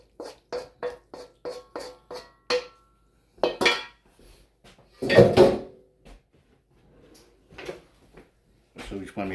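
Utensils clink and knock against dishes while shrimp pad thai is plated: a quick run of sharp taps, then scattered scrapes and clatters nearby, loud and alone.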